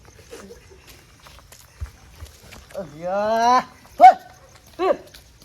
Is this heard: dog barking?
yes